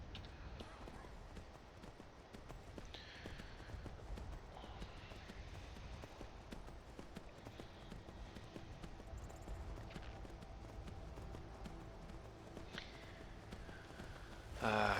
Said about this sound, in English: So interesting things about riding a horse, it can't back up